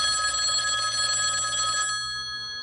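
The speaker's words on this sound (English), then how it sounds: "I would say it was around 8:30 when the phone rang." An old-style telephone bell rings steadily and loud for about two seconds in a radio drama, then cuts off into quiet, with no talking.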